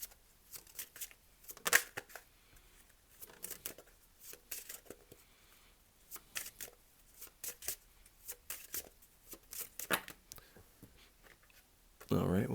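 Tarot cards being shuffled and drawn, with quiet, irregular papery riffles, slides and taps close by.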